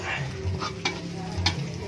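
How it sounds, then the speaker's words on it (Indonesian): Ground spice paste frying in hot oil, sizzling steadily close up while a utensil stirs it, with a few soft scraping strokes against the pan. "Bumbu yang udah dihaluskan kita goreng sampai berubah warna."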